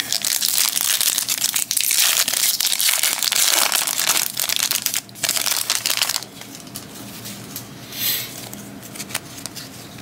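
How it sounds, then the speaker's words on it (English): A 2018 Topps Series 1 baseball card pack is torn open and handled, with close, dense crinkling and crushing of the foil wrapper that runs loud for about six seconds, then eases into quieter rustling. "today I'm opening a pack of 2018 Top Series number 1"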